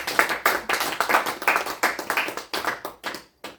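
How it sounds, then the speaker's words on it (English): Small group applauding at a social deduction game session, a steady patter of close handclaps lasting a few seconds before tapering off. "Let's go around applause."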